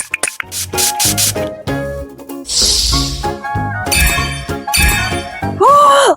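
Golden spray from a video game is sprayed onto rocks, turning them into gold bars. Metallic clangs and bright dings ring out over layered game effects, with a short loud hiss burst midway and a rising tonal chime at the end.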